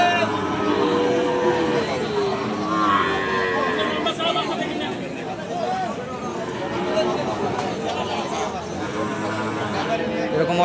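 Shahiwal bulls and calves low and moo repeatedly at a busy cattle market, the bellows rising over a constant crowd babble while someone talks up close throughout.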